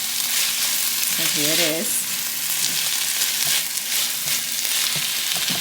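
Onions, cilantro, red peppers, garlic and turkey sausage sizzle in a frying pan, giving a steady, close, full hiss throughout, with a brief voice speaking partway through.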